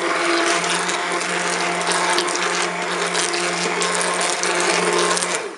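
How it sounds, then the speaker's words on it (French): An immersion blender runs steadily through apricot jam, a loud, continuous whirring hum that grinds on without pause and with no talking. "Voilà, j'utilise un mixeur plongeant."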